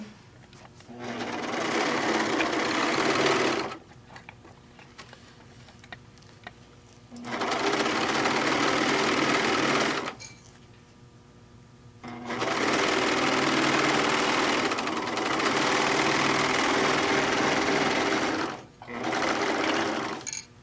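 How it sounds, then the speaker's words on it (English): A serger overlocking the seam of a fat quarter tote, running in four loud mechanical bursts separated by short quiet pauses. "I'm going to do that on my serger so I can get it done lickety split"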